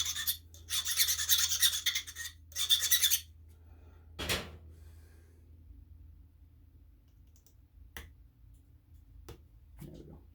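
A dull flintknapping tool is sharpened by rubbing, making two bursts of close, gritty rasping strokes, followed by a sharp snap and faint scattered clicks in a quiet room.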